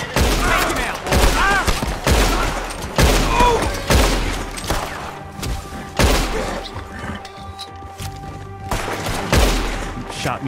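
Bursts of gunfire in the Red Dead Redemption 2 video game, with loud repeated volleys of shots and thuds spread across the stretch and voices talking in between.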